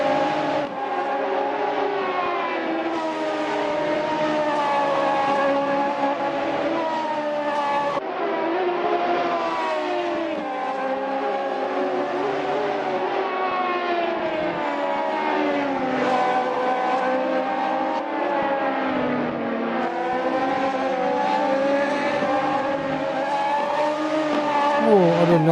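A Radical SR3 race car at Road Atlanta revs hard and continuously, its engine note rising and falling through gear changes for the whole stretch, loud and close with a faint tire squeal in places.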